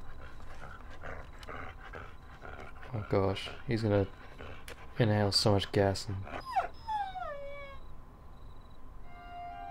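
In the video game Alter Ego, a dog yelps and whimpers in a series of sharp pitched cries, then thin fading whines, while someone talks over it.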